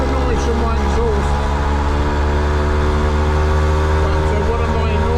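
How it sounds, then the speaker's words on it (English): A Yamaha YB100 motorcycle engine drones steadily, its exhaust baffle partly blown out by backfires, giving a loud, continuous low rumble with harmonic tones and some voice mixed in throughout. "I don't know if you're getting extra noise from my exhaust."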